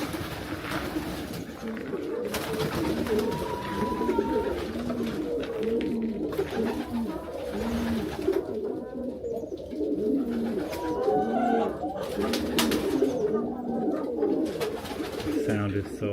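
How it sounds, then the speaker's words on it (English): Pigeons coo steadily and rhythmically at close range, a continuous murmur of overlapping soft rolling calls over outdoor ambience, with a few faint chirps and a voice speaking quietly underneath. "My wonderful pigeon friends."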